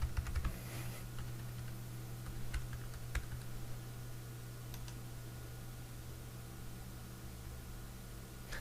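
Computer keyboard typing while logging into the MLA database at Ohio University, a few scattered key clicks over a steady low hum and background noise, quiet and close, with no talk.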